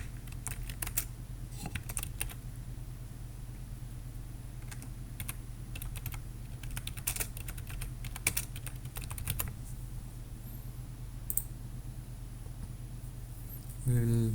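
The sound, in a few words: typing on a computer keyboard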